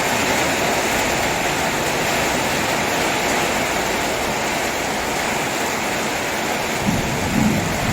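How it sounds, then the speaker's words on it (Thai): Low thunder rumbles beneath a constant, heavy downpour, the rain hissing evenly throughout with a slight swell near the end. "ฟ้าร้องมาแล้วครับ ตอนนี้ฟ้าร้องมาแล้ว"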